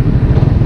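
A Raider 150 Fi motorcycle engine starved of air runs in a brief, rough, uneven sputter, close and loud.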